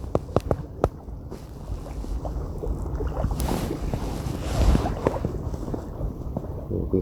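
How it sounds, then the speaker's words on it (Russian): Gusty wind buffeting the microphone at a lake during summer feeder fishing, a steady broadband rush with a few sharp knocks near the start and a stronger gust midway, with no talk. "Вот, ветер по-прежнему есть, но уже не такой, как был до этого."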